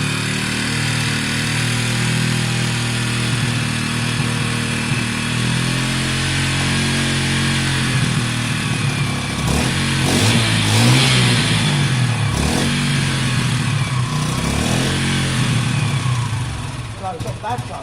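WK RT 125 motorcycle engine running steadily and revving repeatedly, loud and close, with voices talking over it at times.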